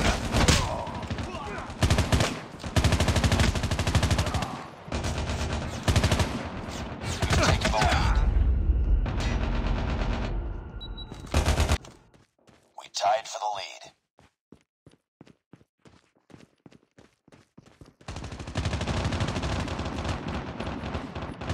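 Rapid bursts of gunfire from the mobile shooter Call of Duty Mobile, dense and loud through most of the stretch, dropping to sparse scattered shots before resuming, with talk mixed in.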